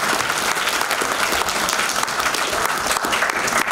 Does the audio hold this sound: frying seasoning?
no